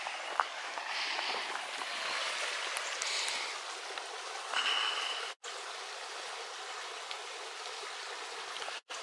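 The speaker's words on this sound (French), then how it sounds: "Le petit cours d'eau, c'est le Miodet." The Miodet, a small river, flows with a soft, steady rushing and trickling hiss, quiet and continuous, with a couple of brief handling knocks near the recorder and no talk over the water.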